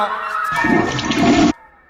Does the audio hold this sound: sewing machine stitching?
no